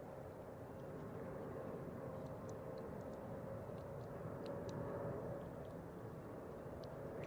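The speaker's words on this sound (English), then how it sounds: "Korean Air 777-300 coming in from Seoul." A Korean Air Boeing 777-300 arriving from Seoul lands at San Francisco airport, heard as a steady, distant jet roar that holds at an even level throughout, with no voices.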